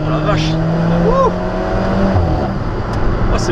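An Alfa Romeo 4C Spider in normal mode accelerates, its engine note rising and sweeping upward up close, then holding a steady hum, with excited voices reacting over the sound.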